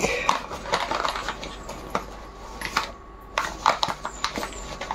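Coins dropping into the slot of a coin-operated PS3 gaming machine, a series of sharp metallic clinks and taps spread irregularly across the stretch, fairly close with no talk.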